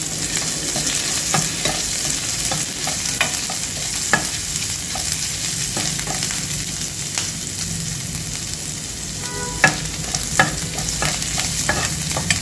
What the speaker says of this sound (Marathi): यामध्ये आपल्याला आलं लसूण घालून घ्यायचं आहे आणि याला छान परतून घ्यायचं आहे.